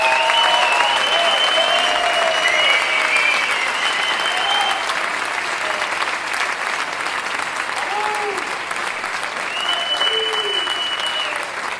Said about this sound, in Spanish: Un gran aplauso para un baterista